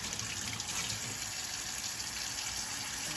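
A sink tap runs steadily for handwashing, a constant, close, fairly loud rush of water with no breaks and no talking.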